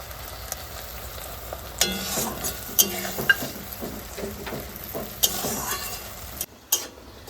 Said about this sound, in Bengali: আমি পেঁয়াজটাকে তো হালকা ভেজে নিয়েছি এই যে এরকম করে ভাজবেন